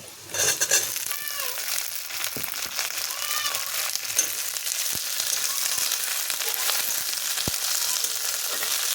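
Okra fries in a pan with a constant hiss of sizzling oil, punctuated by occasional sharp taps and scrapes of a stirring utensil against the pan, close and without talk.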